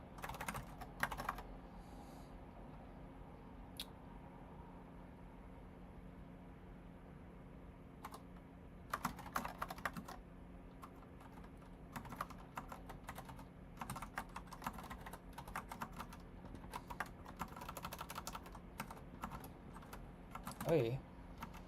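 Quiet, intermittent typing on a computer keyboard during a coding session, with irregular clusters of soft key clicks separated by pauses and faint room noise.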